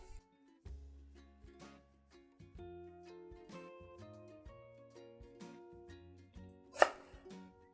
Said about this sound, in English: I'm going to slice it thinly.